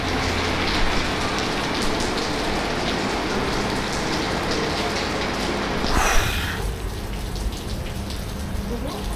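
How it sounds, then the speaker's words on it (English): Steady, loud rain pours down and patters on surfaces nearby at EPCOT, with a brief splash of water partway through. "I don't care about the rain. The rain does not faze me one bit."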